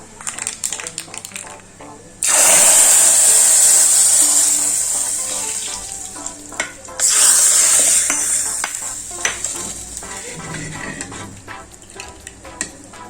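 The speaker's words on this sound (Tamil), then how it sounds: "இப்போ இந்த தாளிப்பு எடுத்து நம்ம குழம்புல சேர்த்துடலாம்" Hot tempering of mustard seeds, curry leaves and a dried red chilli poured into a kuzhambu made with thoothuvalai greens: two loud, hissing bursts of sizzling that slowly die away, with clatter in between.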